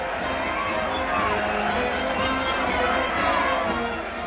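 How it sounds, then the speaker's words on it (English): A crowd cheering along Broadway and Fifth Avenue as Roosevelt's parade passes, with a steady, loud roar of many voices and swells of shouting that carry on without a break. "Attended by an escort of Rough Riders, Roosevelt rides up Broadway and Fifth Avenue amid the cheering crowds"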